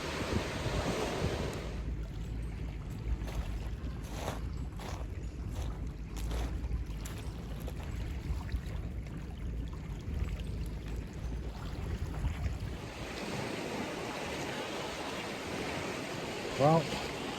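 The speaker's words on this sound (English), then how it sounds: "sitting down here on the beach, you can hear the waves" Waves washing onto a beach at sunset, a broad steady surf roar mixed with wind buffeting the microphone, easing into a softer wash near the end.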